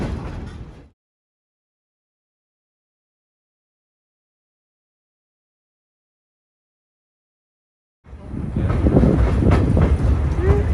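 A Verde Canyon Railroad train rolls along the tracks: a short burst of rumble opens, then near silence for several seconds, then loud, close rumbling and clattering from the railcar returns and runs to the end.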